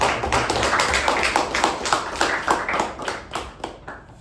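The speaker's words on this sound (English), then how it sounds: "Let's give a round of applause to Raja Prasad" A room of attendees at a Toastmasters meeting gives a round of applause, a continuous, even clatter of many hands that holds for about four seconds before thinning slightly.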